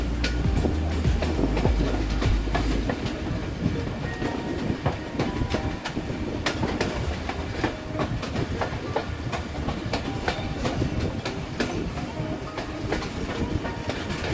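Pakistan Railway's Pakistan Express running from Rawalpindi to Gujar Khan, its loud, steady rumble carrying rhythmic clickety-clack of wheels over rail joints throughout, with no talking.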